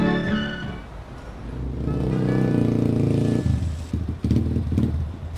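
A motorcycle engine runs steadily and then changes pitch and sputters, fairly close and loud, with some clattering near the end.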